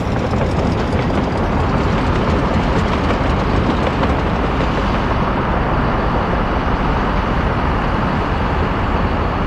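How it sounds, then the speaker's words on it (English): Trains run in the city-building game Workers & Resources, giving a loud, constant rumble of rolling rail cars. "What do we have here if not some trains?"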